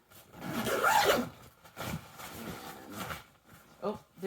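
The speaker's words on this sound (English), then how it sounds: "there's only one zipper, so you have to go all the way around" A single zipper is drawn around a nylon travel pack, giving a rasping zip sound that peaks in the first second and a half and then continues in softer pulls.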